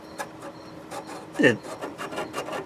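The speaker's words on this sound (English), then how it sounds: "But I have to sand right here because there's a rough spot." Hand sanding of a rough spot on a fuel filter line from a 1996-2002 Toyota 4Runner, short repeated rasping strokes in an uneven rhythm, quiet and close, with one louder scrape midway.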